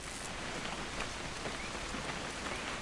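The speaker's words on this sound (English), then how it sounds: "It's gonna rain the whole weekend," Steady rain falls throughout a Fortnite video game cutscene, a constant hiss of drops on surfaces with no break and no voices.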